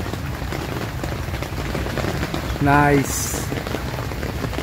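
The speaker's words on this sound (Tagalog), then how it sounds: "Umuulan." Rain patters steadily on a tent during beach camping, a dense close hiss of drops, with a brief spoken word partway through.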